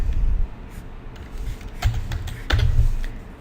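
Typing on a computer keyboard while entering a corner-rounding value in design software, heard as a few soft key clicks and thumps spread over a few seconds, fairly quiet and close, with no talking.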